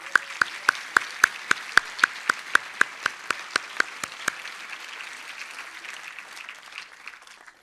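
An audience at the opening of a botanical conference claps in steady unison rhythm for the organizers, about sixteen crisp, evenly spaced beats, then it fades into faint scattered sound. No one speaks.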